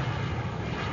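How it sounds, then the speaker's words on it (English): Steady roar of a jumbo jet passing overhead, a loud, broad rumble heard briefly and without talking, as a sound effect in an old radio comedy. "There's a jumbo jet going over now."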